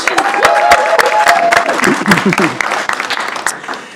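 Brief applause at a school district board meeting, scattered claps from a small room over murmuring voices and a spoken tone, tapering off near the end.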